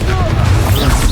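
Bombarda spell blast in Hogwarts Legacy: a short, loud smashing burst with crashing debris, over a shouted voice.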